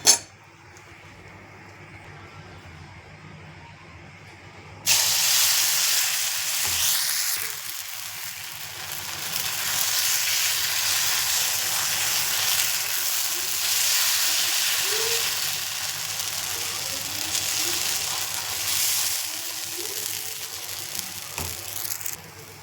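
Green moong dal dhirde batter poured onto a hot pan, bursting into a loud, steady hiss and sizzle after a quiet start, with occasional utensil clinks.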